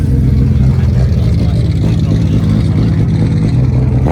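A Nissan Skyline GT-R's RB26 engine runs loud and close on a wintry Finnish street, a dense, throbbing rumble that holds steady for the whole stretch with slight swells in pitch.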